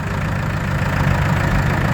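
A vintage tractor on rubber tyres runs in the parade at the Carrington steam rally, its engine chugging loud and close in a steady, unbroken idle-like rumble with no voices over it.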